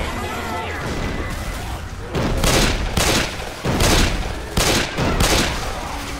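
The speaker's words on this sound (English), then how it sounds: "That was a good pipe bomb." In Left 4 Dead 2, a pipe bomb blast is followed by heavy bursts of gunfire, loud booming volleys coming in several separate rapid-fire clusters.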